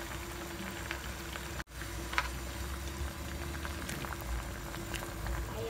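Pechay vegetables boiling in a pot of water for kare-kare, a quiet steady bubbling and patter throughout, with one brief clunk partway through.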